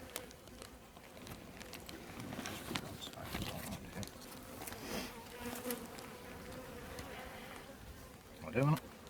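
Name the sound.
bees buzzing at a hive during an inspection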